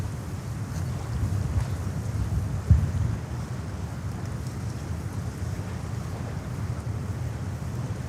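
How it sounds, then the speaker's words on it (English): Aeromexico Boeing 787-9 Dreamliner taking off from JFK Airport in New York toward Mexico City, heard as a steady, distant low-pitched jet roar with heavy wind rumble on the microphone and no talking. "Aeromexico 787-9 Dreamliner taking off to Mexico City."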